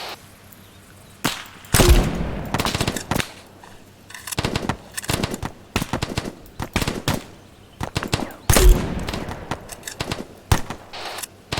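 Rifles and machine guns in ArmA 3 open up in rapid fire, with dense, loud bursts and single cracks arriving in irregular clusters and short pauses between volleys.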